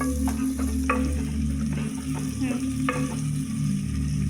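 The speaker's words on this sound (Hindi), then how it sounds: "हम इसको अच्छे से सौते करेंगे।" Sliced onions sauté in hot oil for Maharashtrian brinjal rice, giving a steady close sizzle broken by a few scraping stirs of a spoon in the pan.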